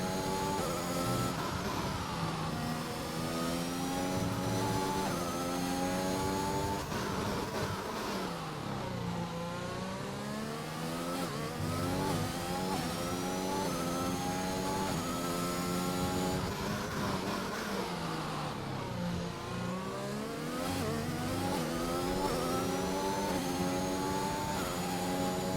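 A McLaren racing car climbs through its gears on a fast lap, its loud, close engine revving hard in continuous rising and falling sweeps with brief dips at the gear changes, steady and unbroken for the whole stretch.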